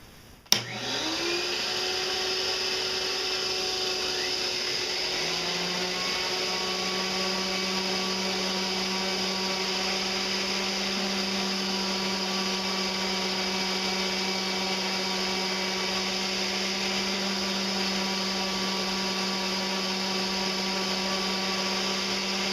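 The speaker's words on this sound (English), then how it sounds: "The next step is to sand the areas on the knick-knack shelf" A steady, loud motorized whine runs continuously after a brief start-up, with a constant pitch and a shift in tone partway through, as a power sander runs alone sanding a wooden knick-knack shelf.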